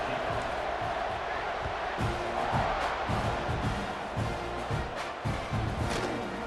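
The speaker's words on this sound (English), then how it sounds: "Do you think this crowd's going to get loud when their defense comes on the field?" A large stadium crowd in the video game EA Sports College Football 26 roars steadily in the background, with occasional thumps and swells of cheering.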